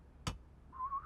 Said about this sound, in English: signature hall walking whistle